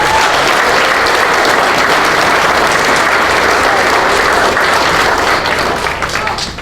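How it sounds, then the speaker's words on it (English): A loud round of applause from a crowd at a St Patrick's Day celebration, thick continuous clapping that stays strong and starts tapering off in the final seconds. "So let's give Marge a round of applause."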